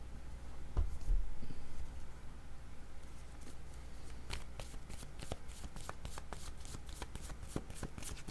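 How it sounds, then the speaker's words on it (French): Tarot cards shuffled by hand for a reading, with a rustle and bump early on, then a rapid run of crisp flicks and snaps as the cards riffle and are drawn, close and fairly quiet. "Donnez-moi une autre carte pour affection et miroir."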